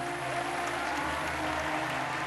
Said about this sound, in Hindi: सबसे पहले जोरदार तालियों से स्वागत कीजिए हमारे बहुत ही प्यारे जजेस का